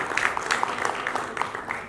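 Audience applause welcoming a guest onto the stage at a community event dedicated to Babasaheb Ambedkar, a dense steady patter of many clapping hands at moderate loudness, continuous throughout.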